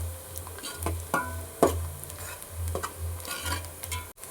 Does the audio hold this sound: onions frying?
yes